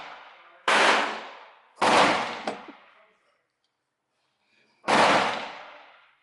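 Three loud, close gunshots from a firearm fed by an ETS magazine, the first two about a second apart and the third after a pause, each sharp report trailing off into a brief echo.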